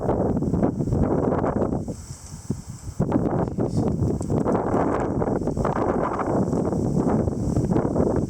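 Strong gusting wind during a rainy storm in late September, a loud, steady roar of broadband noise that dips briefly for about a second before surging back and holding strong.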